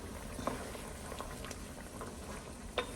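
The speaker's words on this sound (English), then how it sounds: "now we're going to give the pot a stir" Jamaican-style curry chicken simmers in a pot, a soft bubbling patter with a few sharper pops and clinks, moderately quiet and close, no talking.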